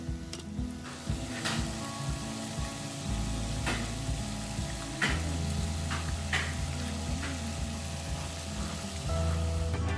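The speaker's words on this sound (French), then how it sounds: "Donc, nous avons mis les beignets dans l'huile." Cameroonian bean fritters (beignets) fry in hot oil, giving a close, steady, crackling sizzle with occasional louder pops and no talking.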